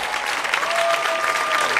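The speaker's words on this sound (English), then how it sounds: "give them a big round of applause" An audience at an international tango championship in Korea claps steadily and densely for a short burst, a close, continuous wash of applause.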